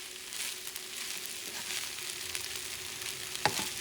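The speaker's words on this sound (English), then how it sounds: "Let this cook for about 2 minutes." Rice with scallops and chickpeas frying in a pan makes a soft, even sizzle throughout, with a single brief clink near the end and no voices.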